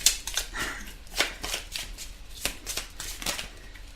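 Tarot cards shuffled by hand for a daily card reading, a run of quick papery riffles and soft slaps close to the mic, with no talk.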